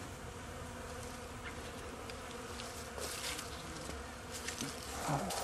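Honey bees buzz steadily around a hive hit by varroa mites, a dense droning hum with individual insects whizzing closer now and then.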